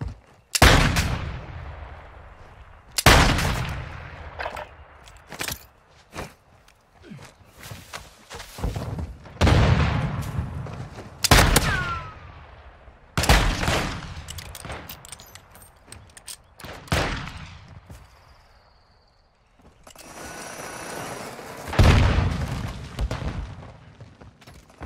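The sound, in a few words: gunfire in Call of Duty MW2 video game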